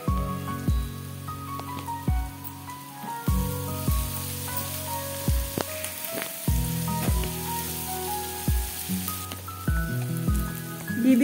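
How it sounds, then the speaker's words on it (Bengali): Onion sizzles and crackles as it is stirred and fried in a pan, a steady close frying hiss that stays under louder background music. "এবার আমি পেঁয়াজটাকে একটু নাড়াচাড়া করে একটু ভেজে নেব।"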